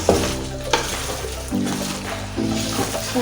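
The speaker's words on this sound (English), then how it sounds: "so I can easily stir it." Spaghetti with spring onions being stirred in a pot for jollof spaghetti, with a steady moist scraping and sizzling texture and a few sharper knocks of the spoon against the pot, close and alone.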